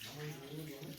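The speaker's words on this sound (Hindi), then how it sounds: "यहाँ से पानी निकलता रहता है" Spring water from a mountain source pours steadily at a Chitrakoot hillside ashram shrine, a continuous close splashing flow with no break.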